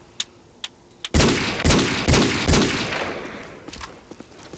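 Gunfire from the shooter video game Black Ops 2, with a few sharp single shots and then a loud close burst that tails off into scattered pops.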